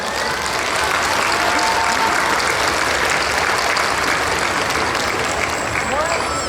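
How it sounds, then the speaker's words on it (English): An audience applauds steadily at a Hmong Minnesota New Year stage event, a dense, even wash of clapping hands that holds without a break from start to finish, with no speech over it. "Please let us all give a hand of applause and recognize the widows of the war."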